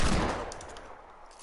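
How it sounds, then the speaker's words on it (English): Desert Eagle pistol fired in a video game, a single loud shot with a decaying echoing tail fading over about a second. "So what you shooting that deagle at?"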